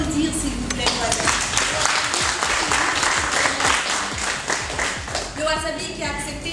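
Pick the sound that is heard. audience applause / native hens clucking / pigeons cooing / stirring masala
audience applause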